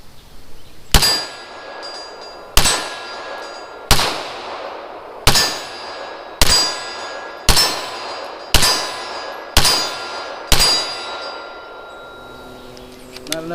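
Pistol shots fired from old reloaded ammunition, with a red dot sight mounted, come as nine sharp, loud reports spaced about a second apart, each ringing with a metallic tail. A brief clatter follows at the end.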